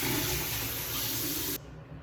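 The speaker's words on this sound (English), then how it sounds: "I'm gonna rinse it off." Water splashing as a face is rinsed after a foaming cleanser, a steady close hiss of running and splashing water that cuts off abruptly near the end.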